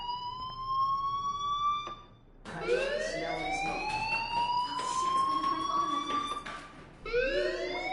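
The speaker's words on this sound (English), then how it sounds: "Hey, do you hear that fire alarm?" Fire alarm ringing in a PS4 video game: a steady electronic tone cuts out, then returns as rising, wailing sweeps that repeat, loud and alone with no talk.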